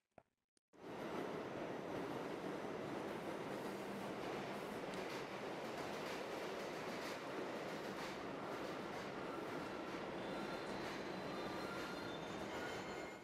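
A Metro M7 train rolls past in a trailer sound effect, a loud continuous rumble with wheel squeal and clatter that starts abruptly after a brief click and holds steady throughout.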